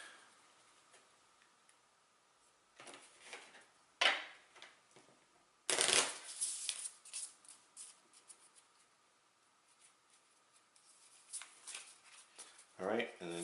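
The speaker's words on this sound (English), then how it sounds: "I need to shuffle" A deck of cards for the Legendary Buffy the Vampire Slayer deckbuilding game being shuffled by hand at a tabletop, quiet with a few crisp riffling bursts and taps, near and soft.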